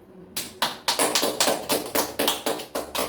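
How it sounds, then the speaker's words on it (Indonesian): Hands clap together in a steady, unison rhythm at the close of a classroom lesson, about a dozen evenly spaced sharp claps with no talk over them. "Kita berikan aplaus untuk materi pada hari ini."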